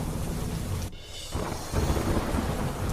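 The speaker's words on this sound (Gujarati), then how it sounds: "ખેડા જિલ્લામાં ધોધમાર વરસાદ માતરના ગામડાઓમાં ભારે પવન સાથે મેઘમહેર" Heavy downpour in Kheda district, Gujarat, with strong wind: a dense, loud roar of rain broken by a brief lull, then rumbling thunder swelling back in over the steady rainfall.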